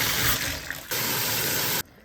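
Water pours into a bathtub for hand-washing laundry, a steady rushing splash that runs, briefly eases, resumes strongly, then cuts off abruptly near the end.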